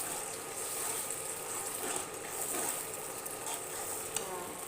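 A pan with water just added is stirred, giving a soft, steady bubbling sizzle with gentle scraping and one small knock near the end, all fairly quiet and without talk.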